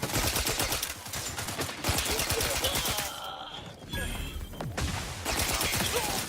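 Gunfire in the video game The Outer Worlds 2, with rapid repeated shots in dense bursts and brief lulls, loud and close, with a voice occasionally talking over the action.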